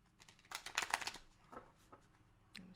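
A tarot or playing card deck is shuffled by hand, a quick soft flurry of riffling and sliding cards, close and quiet, then a few light taps, alone without talk.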